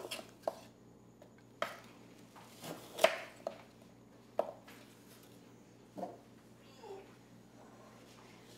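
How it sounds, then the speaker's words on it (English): Knife cutting diagonally through apple quarters for a vegan, gluten-free apple pie, heard as about seven sharp, separate chops on a board, close and moderately loud, spaced roughly a second apart in a quiet kitchen. "So take each quarter and do a little diagonal cut"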